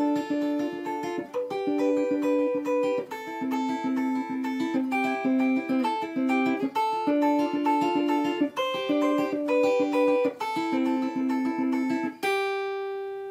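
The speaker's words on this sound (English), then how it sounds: "So I'm going to teach you the whole song. So the intro sounds like this." Fingerstyle guitar intro of a song, plucked arpeggiated notes repeating in a steady pattern, clear and close, ending on a ringing chord.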